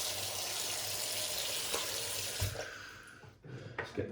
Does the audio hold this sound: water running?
yes